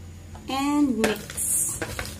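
Salad being tossed in a bowl, with a clear clink of a utensil against the dish midway, then light rustling and a couple of taps, close, with a faint voice in the background.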